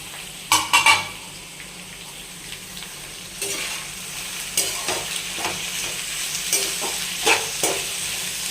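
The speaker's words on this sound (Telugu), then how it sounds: "ఇవి మొత్తం కూడా బ్రౌన్ కలర్ వచ్చేలాగా వేయించుకోవాలండి" Ivy gourd pieces frying in oil in a pan for a simple dondakaya fry, with a steady sizzle broken by several spoon stirs and scrapes against the pan; close by, no talking.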